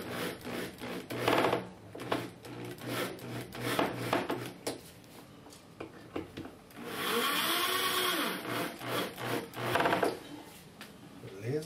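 A screw is driven into the wooden axle of a toy car, giving bursts of grinding and whirring with rubbing and scraping in between. The longest, steadiest run comes near the middle.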